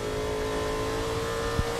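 Steady engine drone from a NASCAR Cup stock car at New Hampshire, held at an even pitch as the driver works the throttle through a corner, with a brief low thump near the end and no talk.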